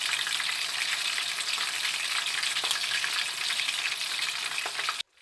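Pointed gourd slices frying in hot oil give a loud, continuous close sizzle with faint stirring scrapes, running several seconds before cutting off abruptly near the end.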